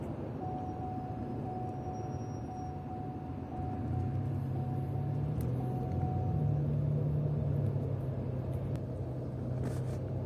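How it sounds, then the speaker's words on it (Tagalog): Heavy road traffic in a jam in Kuwait, with cars idling and rumbling steadily nearby, a continuous low engine drone that swells slightly partway through, with no talking. "Napakahaba ng traffic."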